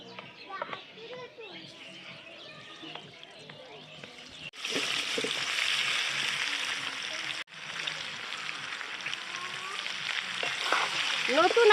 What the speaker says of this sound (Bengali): সিদ্ধ করা আলুগুলো এই ডিম ভাজা তেলে ভেজে নিচ্ছি।